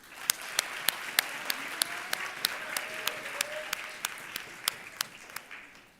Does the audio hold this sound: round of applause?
yes